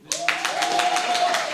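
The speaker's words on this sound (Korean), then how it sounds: "앞에 계신 분들께 더 큰 박수를 쳐드려야지" Brief applause from a symposium audience breaks out suddenly, a quick rattle of many hands clapping nearby that keeps up at a steady level for just over a second.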